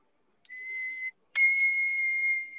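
Two short whistled notes, a brief high tone then a longer sustained one after a pause, clear and close with no talking.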